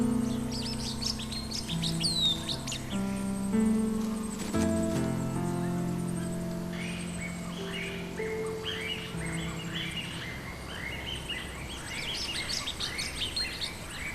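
Flock of black-feathered, red-beaked birds, sacred to the Bunun, foraging in branches of a Taiwanese mountain forest, giving overlapping chirps and whistled calls, fairly close and steady throughout, with repeated short call bursts in the latter half and no talking.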